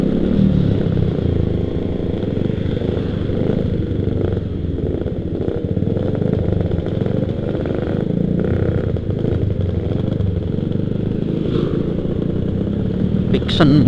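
A modified Yamaha Vixion motorcycle engine idles and rumbles steadily at close range, a throaty low drone with occasional clattering, running the whole time.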